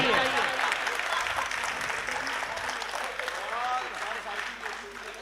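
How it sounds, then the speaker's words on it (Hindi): Audience applause at a national poetry recital marking Kargil Victory Day, a dense, sustained wash of clapping from a crowd with scattered voices mixed in, gradually easing off. "तालियां बजाइए।"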